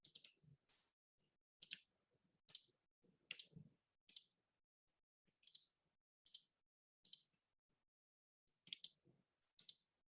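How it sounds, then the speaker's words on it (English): Sharp keyboard key clicks come in short irregular bursts separated by pauses, crisp and close, with no talking. "Typing in the information about the gelatin."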